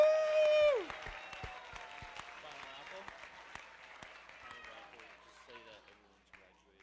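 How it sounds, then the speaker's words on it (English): A graduation audience gives a final round of applause for the year one students, scattered claps and cheering starting after a brief whistle-like tone, fairly faint and fading gradually toward the end. "Can we get one final round of applause for the year ones?"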